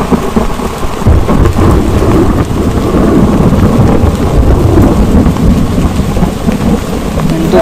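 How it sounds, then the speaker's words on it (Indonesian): Heavy rain beats steadily on a shelter at night with rolling thunder, a dense, loud, continuous wash of downpour throughout with low rumbles, no voices. "Ternyata hujan."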